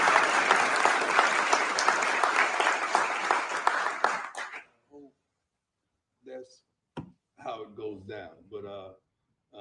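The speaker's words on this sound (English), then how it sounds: "So just clap it up, TC." Sustained crowd applause and clapping, loud and dense for about four seconds, then cutting off abruptly before scattered voices talk afterward.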